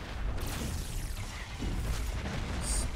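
Sweeping gunfire in the Blood Hunt master mode of a video game comes as a dense barrage of booming blasts and pops, loud and continuous with rolling low impacts and a sharp burst near the end.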